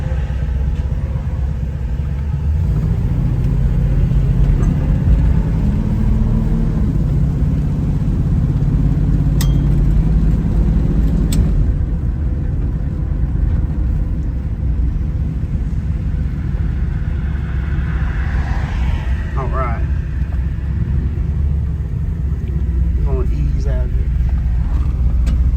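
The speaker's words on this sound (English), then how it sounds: "we're going to take this 1966 Chevrolet Nova for a test drive and see how it does" Engine of a 1966 Chevrolet Nova SS on a test drive, a continuous low rumble that builds and shifts as the car pulls away, with someone talking over it throughout.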